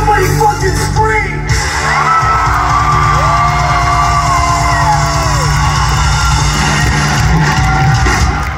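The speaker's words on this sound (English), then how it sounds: "Somebody fucking scream!" A concert crowd at an outdoor amphitheater screams, whoops and yells over sustained loud music, a dense roar of many voices filling the space throughout.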